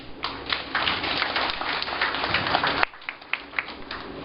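An audience at a PREPP programme launch applauds mayors and prefects, with dense, close clapping that cuts off abruptly partway through and then continues as scattered claps.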